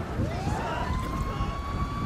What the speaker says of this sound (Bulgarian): Оле, идва пожарната!